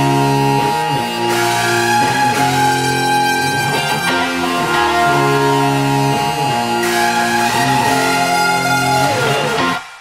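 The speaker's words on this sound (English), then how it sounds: "This is all of the guitars." Layered guitar tracks with a lead guitar on top play together in a drum and bass producer's track, a dense, sustained wash of chords and melodic lines running loud and steady throughout with no voices.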